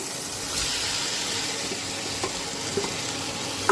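Chunks of young jackfruit hit sautéed spiced masala in a pan for a Bengali curry, giving a steady, fairly soft sizzle with light stirring and a small clatter near the end.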